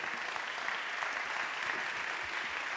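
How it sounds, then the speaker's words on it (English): Steady audience applause at a conference in Paris, an even wash of many hands clapping throughout, at moderate volume, with no speech over it. "I think you deserve some applause, right?"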